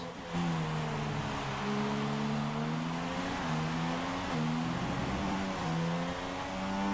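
A Formula 1 car in F1 2016 at the Canadian Grand Prix screams along at high revs, close and loud, with repeated upshifts stepping the pitch down and climbing again, heard without talk.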